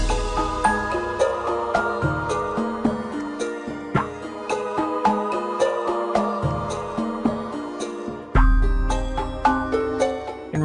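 Enhanced version of the Hall of Doors music from the Rayman video game: a steady, bright melodic loop with regular rhythmic pulses and a sustained bass, playing alone with no voices and a fuller swell near the end.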